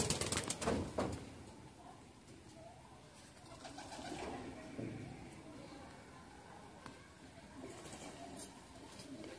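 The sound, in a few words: pigeons cooing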